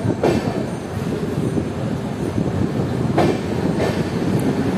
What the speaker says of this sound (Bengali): ওই সামনে আমাদের ট্রেন ঢুকছে শিয়ালদা থেকে বামনহাট উত্তরবঙ্গ এক্সপ্রেস